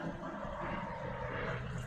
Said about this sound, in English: That is a low-flying plane